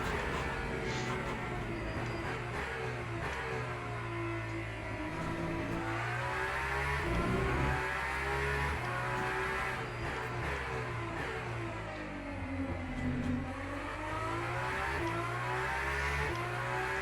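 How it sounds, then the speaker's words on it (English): Several hypercar engines in the Le Mans Ultimate racing game drone steadily at high revs, with rising and falling pitch sweeps as cars accelerate, shift and pass, continuous and fairly loud throughout with no talk. "We are coming up to a couple of hypercars now."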